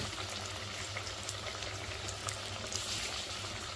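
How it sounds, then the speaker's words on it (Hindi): Food sizzles and crackles in a frying pan during cooking, a steady dense hiss with small pops, close and continuous with no voices. "अब मैं इसे फ्राई कर रही हूँ"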